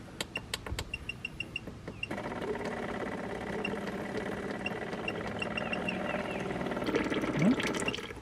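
An Ancel BR2000 Elite electric brake bleeder runs with a steady mechanical pump hum, pushing brake fluid into a waste container, preceded by a few sharp clicks and beeps as it counts down.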